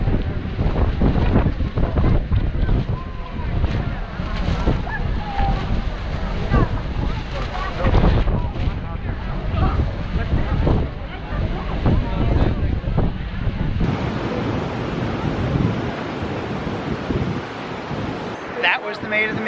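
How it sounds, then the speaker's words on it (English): Strong wind buffets the microphone on a Maid of the Mist boat tour near Niagara Falls, loud and rumbling throughout, mixed with rushing water and spray, while voices talk faintly underneath. "Wow, it's windy."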